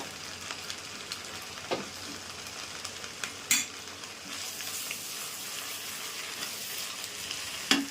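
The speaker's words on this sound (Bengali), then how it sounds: "টমেটো আমার গলে গেছে এবং ভালো করে ভেজে নেব।" Tomatoes fry in a pan with a steady, soft sizzle, salted and cooked down until they melt, broken by a few scraping stirs of a spoon against the pan; no voices.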